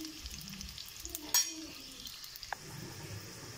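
Onions hit hot oil and fry in a pan, a close sizzling crackle with stirring and a sharp clatter partway through, no talking.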